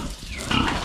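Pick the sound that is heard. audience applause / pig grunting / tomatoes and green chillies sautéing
pig grunting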